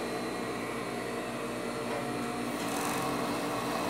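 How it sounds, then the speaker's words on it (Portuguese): An overlock sewing machine stitching fabric while joining pieces of a plus-size double-strand panty; a steady, continuous motor whir with fast stitching runs close and loud throughout, with no talk. "vamos passar aqui na overlock"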